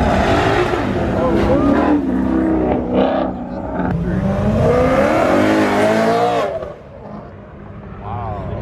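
Dodge Challenger Hellcat ripping a burnout leaving a Cars and Coffee meet in Houston, its engine roaring loud and sustained with revs climbing and falling, tires squealing, before dropping off, while onlookers talk and shout nearby.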